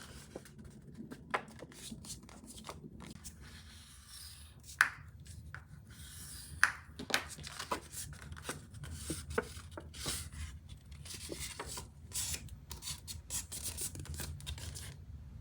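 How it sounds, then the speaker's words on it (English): Greeting card paper being scored down the center and folded: faint scratchy rubbing and a few soft taps and creases in a quiet room, with no voices. "you're going to score it down the center on this line. And then just fold."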